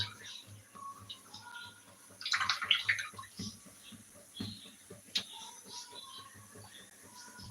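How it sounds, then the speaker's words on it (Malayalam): A brief splashy burst of water pouring, close and bright, amid quiet background talk and scattered handling noises. "കുറച്ചുകൂടെ വെള്ളം ഒഴിച്ചു കൊടുക്കാൻ കേട്ടോ"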